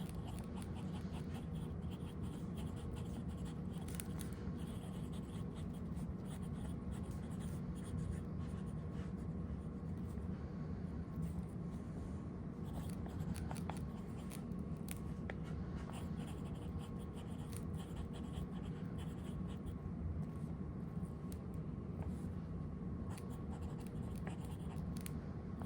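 Broad, wet-nib fountain pen moving across paper, a soft continuous scratchy glide of strokes with tiny pauses, quiet and close against a steady low background hum.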